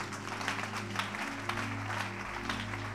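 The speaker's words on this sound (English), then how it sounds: "If you are clapping, clap." A church congregation claps through a steady, rhythmic beat at roughly half-second intervals, set over sustained musical tones. The clapping comes at moderate volume and continues without a break.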